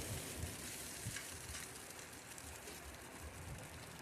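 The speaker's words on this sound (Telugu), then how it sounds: "అన్నం ఇందులో వేసేసి ఒకసారి మొత్తం కలిపేసుకుందాం" Cooked rice for egg fried rice is stirred in a hot pan, with a dense, even sizzle and soft scraping throughout, moderately quiet and without speech.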